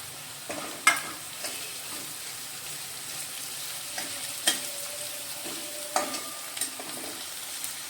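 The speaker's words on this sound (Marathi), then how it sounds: "कांदा भाजल्यानंतर आपण त्याच्यामध्ये टाकूया हिरवी मिरची" Chopped onion and green chili frying in oil in a pan for kanda poha, a steady soft sizzle with occasional spatula scrapes and clinks, close and moderately loud, without voices.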